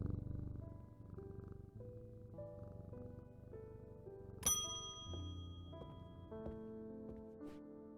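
Cat purring while being petted in the Strange Antiquities video game, a low, soft rumble under layered tonal chimes and a bright ding midway, with no talking.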